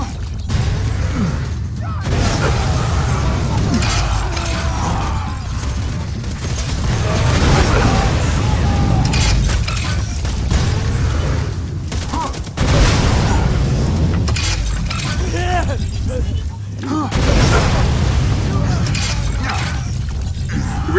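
Norfleet weapon blasts in the Borderlands 2 video game, a loud, dense, continuous wash of explosive booms and shattering bursts that barely lets up, with brief gaps between volleys.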